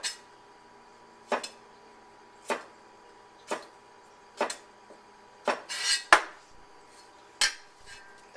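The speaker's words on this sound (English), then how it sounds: "this stuff I'm going to peel off with a knife" A knife scrapes and taps against fresh ginger on a cutting board, about a dozen sharp, separate clicks spaced roughly a second apart, close and fairly quiet.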